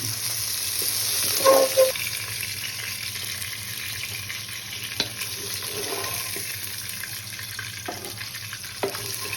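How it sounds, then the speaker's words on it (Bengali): Katla fish frying in hot oil in a kadai, a steady low sizzle throughout with a few clinks and scrapes of a spatula, no voices. "এবার মাছটা ভাজা হয়ে গেল লাল লাল করে"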